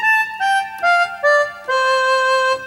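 A reedy, buzzy Lowrey electronic organ voice imitating a harmonica plays a descending run of sustained notes, each change marked by a faint key click.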